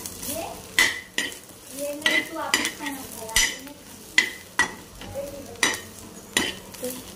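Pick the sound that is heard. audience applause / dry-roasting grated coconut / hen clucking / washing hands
dry-roasting grated coconut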